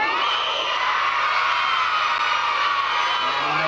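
A group of children at a 50th birthday party shouting together loudly in unison to call someone, a sustained, bright crowd yell lasting a few seconds without pause.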